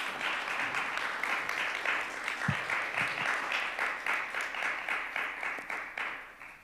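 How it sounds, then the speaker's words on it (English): An audience at a summit applauds for Nisha, a soft, distant wash of many hands clapping with a faintly pulsing rhythm and a couple of low thumps midway. "So huge round of applause for Nisha"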